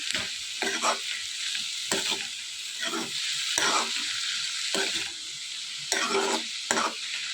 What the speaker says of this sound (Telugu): ఇదంతా బాగా ఫ్రై చేసుకోవాలి